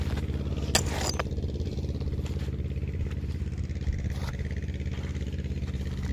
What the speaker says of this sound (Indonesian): Oke, suara mesinnya terdengar.